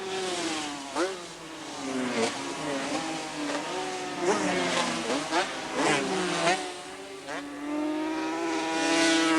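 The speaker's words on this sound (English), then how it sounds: "Interesting note is that Terry Paviel hasn't ridden this TZ Yamaha since the Surfers Paradise round of the Swan Insurance Series late last year." TZ Yamaha two-stroke racing motorcycles at the 1984 Bathurst 350 GP race, engines whining and rising and falling in pitch as they pass, heard under a commentator's voice.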